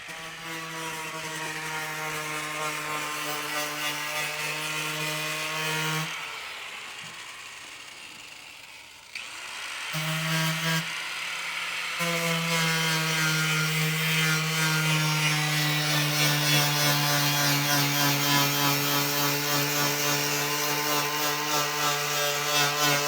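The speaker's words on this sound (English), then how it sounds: "So we're going to get started sanding" A power sander with a Bondo disc whines steadily at close range, pausing briefly partway through before starting up again.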